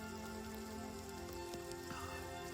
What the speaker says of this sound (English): It's really rainy out here, but I love it.